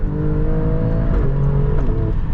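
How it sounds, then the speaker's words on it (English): Alfa Romeo Stelvio Quadrifoglio performance SUV exhaust heard from the cabin while accelerating, a loud, steady engine drone with rising tones that dip briefly at gear changes. "I can hear the exhaust"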